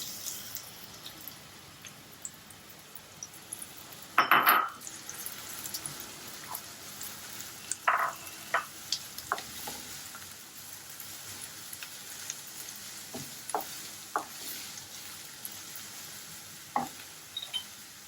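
A large chopped onion sizzles in hot oil for a tinned fish masala, a soft steady frying hiss with occasional sharper crackles and pops, fairly quiet throughout.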